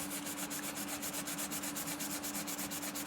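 A 3D printed kit part is sanded with wet or dry sandpaper before priming, giving a close, steady rhythmic rasp of quick back-and-forth strokes that repeats evenly throughout.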